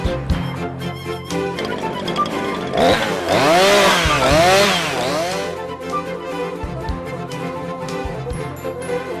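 A chainsaw runs loud and close, its engine droning steadily and revving up in a few rising and falling surges before settling back to a constant buzz.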